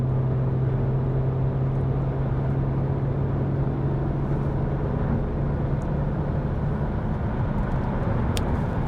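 Steady, loud road and engine drone from inside a 2005 BMW ZHP cruising in fifth gear on a highway, a constant low hum with tire roar and no talk.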